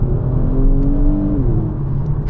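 A 370hp Kia car's engine revs steadily and loudly from inside the cabin after a downshift to second gear, its pitch rising and then settling into a continuous drone with no talking.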